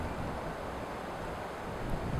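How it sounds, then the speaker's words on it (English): Steady, broadband wind rushing across the microphone outdoors in Montana, a constant low roar with no pauses or voices. "It's pretty windy though"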